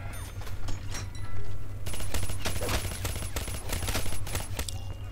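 M16 rifle fire in a Minecraft zombies game: rapid bursts of sharp, loud shots crackle in quick succession over a steady low hum, the firing growing denser after the first two seconds.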